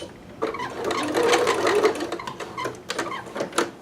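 A sewing machine running out of thread whirs in quick bursts while stitching a McCalls 6701 dress, its motor rising and pausing over a few seconds, close and clear.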